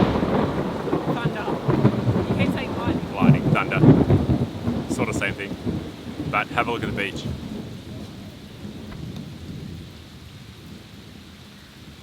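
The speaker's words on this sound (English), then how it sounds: "Thunder." Thunder rumbling through a rainstorm at a beach, with heavy rain hissing steadily on surfaces throughout while a voice speaks briefly over it.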